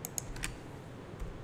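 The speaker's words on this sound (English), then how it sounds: "So I'll type this one in." Keys on a calculator are pressed in a quick, faint series of light clicks, with a couple more taps after a short pause.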